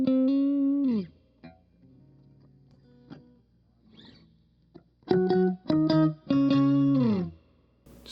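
An electric guitar runs through an Electro-Harmonix Micro POG octave pedal, making sustained organ-like chords and swells. Notes ring, bend and fade, then a burst of loud chords sounds, with no talk.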